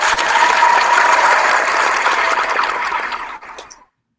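A second round of audience applause, thick steady clapping from a crowd that gradually thins out and stops, with a few stray claps at the tail.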